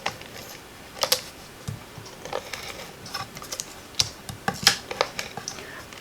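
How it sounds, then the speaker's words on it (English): A tape runner lays adhesive onto a handmade fun-fold card, giving quick, light clicks and ticks in irregular bursts close by, with a few sharper snaps among softer rustles. "I think I'm just going to use some tape runner"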